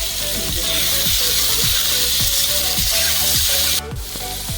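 Boiled kohlrabi cooking in a pan with bay leaf, a steady close sizzle with regular rhythmic stirring scrapes repeating about every half second, with no talking.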